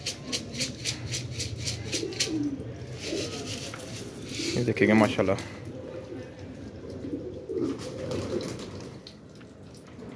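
Pigeons gathering for scattered grain coo softly in low throaty murmurs beneath someone talking nearby, with scattered light pecking ticks and a brief fluttery burst midway.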